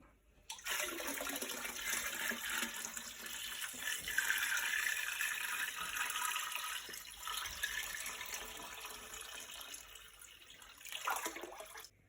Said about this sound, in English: now I'm going to put the clean water into the tank and fill it back up.